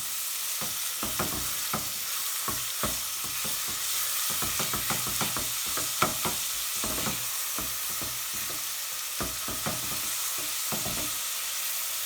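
Two medium onions, finely chopped, frying in a pot on high heat, a soft steady sizzle broken by frequent scraping and tapping of a spoon as they are stirred, no talk.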